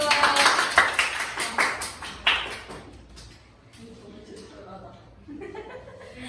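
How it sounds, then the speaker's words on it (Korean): Students in a classroom give a brief burst of clapping and chuckles that fades after a couple of seconds, leaving quiet room noise and some talk. "그래 박수"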